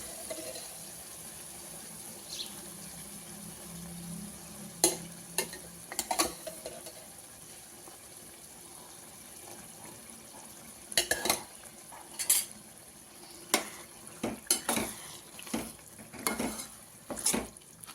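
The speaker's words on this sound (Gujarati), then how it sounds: "હવે આપણે આમાં ગેસ ધીમો કરીને દહીં એડ કરશું." Ridge gourd curry with yogurt added cooks over a low gas flame, a soft sizzle beneath repeated spoon scrapes and clinks against the pot as it is stirred.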